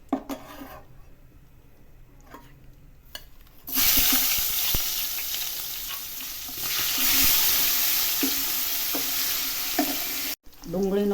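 Sliced onions hit hot oil seasoned with asafoetida for a Gujarati onion sabji, setting off a loud, steady sizzle after a few seconds of quieter pan clinks and stirring.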